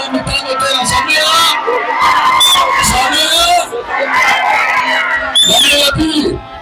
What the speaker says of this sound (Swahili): Naomba mpige makofi mengi kwa Mama Samia.